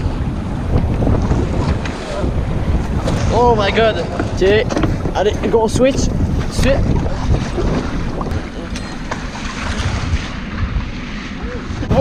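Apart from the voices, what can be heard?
waves around a boat at sea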